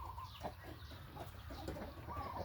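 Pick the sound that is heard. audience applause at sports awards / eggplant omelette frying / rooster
rooster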